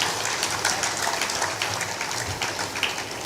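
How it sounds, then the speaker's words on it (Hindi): A crowd applauds loudly at a gathering in Chhattisgarh where invited dignitaries are introduced. The clapping is dense and sustained, with a continuous crackling texture and no talk. "ताली बजाइए जोर से।"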